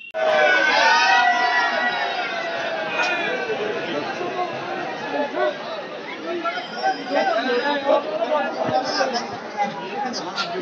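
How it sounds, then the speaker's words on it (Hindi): A large, dense crowd chatters and calls out all at once, a loud, continuous babble of many voices with occasional shouts rising above it throughout. "तो देख सकते हैं कितना भीड़ है"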